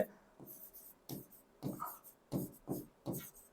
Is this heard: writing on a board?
yes